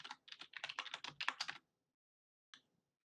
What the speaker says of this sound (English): you just type in your password again